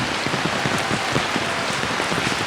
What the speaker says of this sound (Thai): มีฝนตก